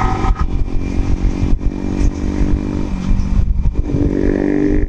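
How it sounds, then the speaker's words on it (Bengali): A Yamaha R15 V4 motorcycle engine runs while riding, a steady close mid-pitched drone with wind buffeting and brief dips, no voices. "বাইকের সাউন্ডটা জাস্ট ওয়াও লাগছে ভাই"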